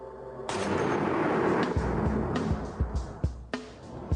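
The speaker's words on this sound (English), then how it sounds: "Today I'm firing this high-powered sniper rifle to see the damage it can deliver." An M107 long-range, high-powered sniper rifle fires one heavy, booming shot that rolls into a long rumble, followed by several shorter sharp thumps and cracks.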